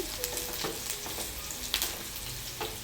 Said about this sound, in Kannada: ಸ್ವಲ್ಪ ಕಂದು ಬಣ್ಣಕ್ಕೆ ಬರೋವರೆಗೂ ಹುರ್ಕೊಳ್ಳೋಣ